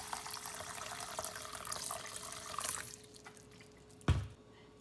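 Water pours into a pot with flaxseed and fenugreek for a hair mask. A soft trickling splash runs for about three seconds, then fades, and a single sharp knock follows near the end. No one speaks.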